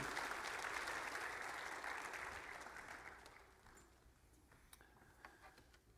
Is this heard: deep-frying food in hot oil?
no